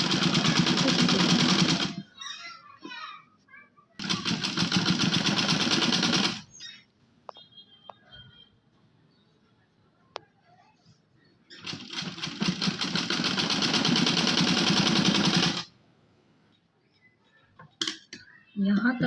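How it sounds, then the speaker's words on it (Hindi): Electric sewing machine stitching along the neckline of a dress, running in three long loud continuous bursts of rapid mechanical whirring separated by quiet pauses with faint handling clicks. "इसी तरीके से यहाँ पर भी हम स्टिचिंग"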